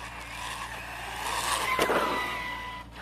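A Wide Maxx Max8 RC car running slowly on a 4S battery, with a steady electric motor whine that swells and fades as it passes close by, plus a brief scrape from the tires midway.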